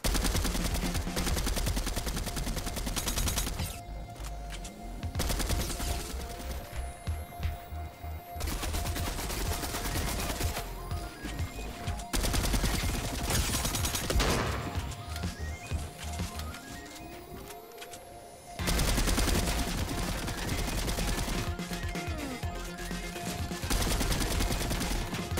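Fortnite gunfire rattles in rapid, sustained bursts during a boss fight, dense automatic fire with brief gaps and overlapping shots, loud and close with game effects mixed in.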